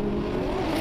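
A drift car at full throttle during a UDC 2017 drift competition run produces a brief, loud, sustained engine roar with a tight, strained tone.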